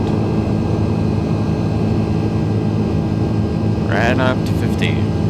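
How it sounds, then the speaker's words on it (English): Simulated Airbus A330 jet engines during climb-out in Microsoft Flight Simulator: a loud, steady broadband roar and hum throughout, with a brief voice near the end. "It's nice engine sound."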